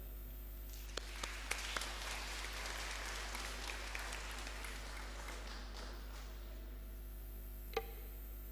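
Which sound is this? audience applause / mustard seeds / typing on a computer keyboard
audience applause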